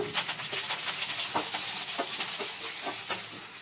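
Curry leaves, chopped onion and cluster beans frying in a pan, with a close crackling sizzle broken by repeated scraping stirs at an uneven rhythm.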